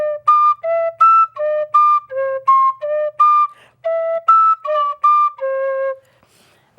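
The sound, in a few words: whistle played, blowing harder for higher octave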